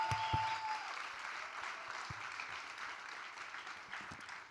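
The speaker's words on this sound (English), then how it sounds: "big round of applause." Audience applause at the Microsoft Excel World Championship finals, a dense, moderately loud clatter of many hands that carries steadily and tapers slightly toward the end.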